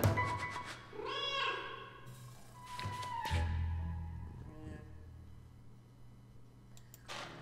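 Cat meows from the video game Tsioque: several drawn-out, close meows separated by short pauses, mixed with clicks and small game effects, with no talking.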